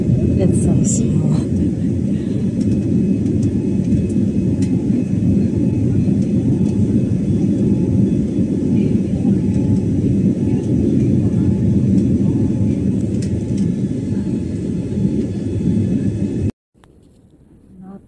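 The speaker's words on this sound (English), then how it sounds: "The way this plane low-key feels so unsafe" Propeller engine of a small airplane rumbling steadily inside the cabin in bad weather, a loud continuous low drone with no talk, cutting out abruptly near the end.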